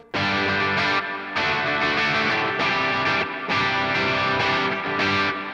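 Loud, heavily distorted electric guitar chords from a humbucker pickup through a Quad Cortex amp modeler, ringing out in several sustained strums with short breaks between them.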